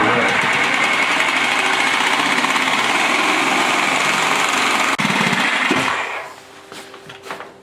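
A reciprocating saw gnaws slowly through particle board base molding, a loud, steady buzzing drone running for about six seconds before cutting off abruptly into quieter handling noise.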